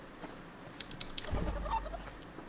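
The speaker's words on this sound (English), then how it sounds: "we'll catch this chicken here for her feathers" A few short clucks from a chicken in a survival video game, close by and moderately loud, with faint clicking beforehand and no talking.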